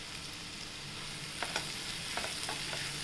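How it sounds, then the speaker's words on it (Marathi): Ridge gourd with crushed peanuts sautéing in a pan, a steady soft sizzle with a few light stirring scrapes, close and alone without talk. "आता आपण याच्या शेंगदाण्याचा कूट टाकूया आणि आता छान परतून घेऊया"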